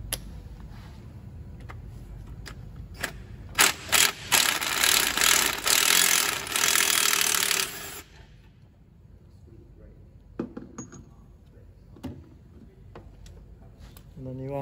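Ratchet with an E12 socket working a stud on a Ford Mondeo 2.0 TDCi engine: a loud rapid clicking ratchet burst for several seconds, then sparse single clicks and light knocks, with a voice talking quietly.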